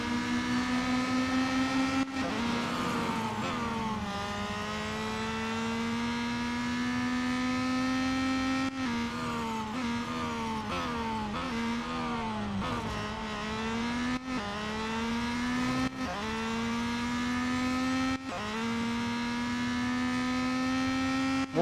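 Race car engine from Real Racing 3 in the final lap, a loud steady whine with rising and falling pitch as it shifts gears and brakes for corners, constant throughout with no talking.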